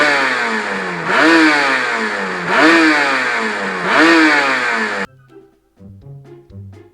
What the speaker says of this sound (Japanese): ちなみに純正の音はこんな感じです。